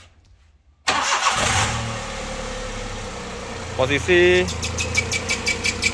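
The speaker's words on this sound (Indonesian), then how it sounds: "akan coba kita nyalakan untuk suara mesinnya" A 2008–2009 Daihatsu Xenia VVT-i car engine cranks and catches after a moment of quiet, then settles into a steady close idle, with a brief voice speaking over it.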